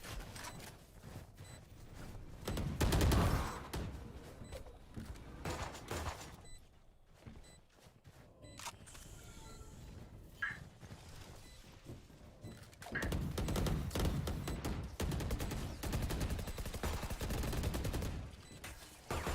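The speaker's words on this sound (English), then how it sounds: "Lots of shots going off, but not an elim yet." Valorant round on the Icebox map, with many shots going off: bursts of gunfire and sharp impacts come in clusters, loud at first, thinning to sparse pops mid-round, then returning as dense, sustained firing at moderate distance.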